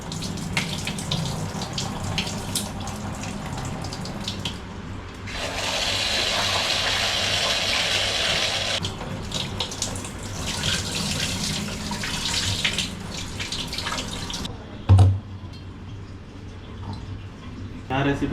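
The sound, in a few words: washing rice in water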